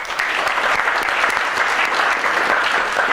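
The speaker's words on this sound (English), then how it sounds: "So a round of applause first for Josh." A round of audience applause at an award nomination ceremony, a dense, even patter of many hands clapping steadily for about three seconds, fairly close and alone.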